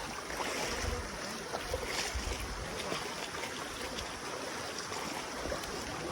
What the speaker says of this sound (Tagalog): Ito guys yung pang-apat na tawid na ilog. Ito. Mababaw lang naman siya guys.